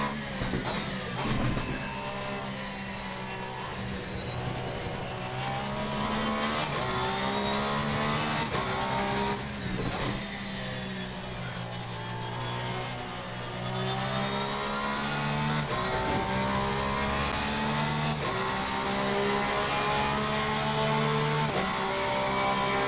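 A Porsche 911 GT3R race car laps the Hungaroring in Assetto Corsa Competizione, its engine roaring loud and continuous as it revs up and down through gear changes, with occasional tire noise and no talking.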